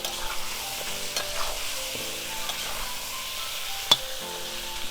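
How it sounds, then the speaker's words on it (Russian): Pork ribs with black pepper sizzle and fry in a kazan, with steady crackling and repeated scraping stirs of a utensil against the pot, close and moderately loud, with one sharp clank near the end. "И еще хорошо это все жарим минуток 5-10."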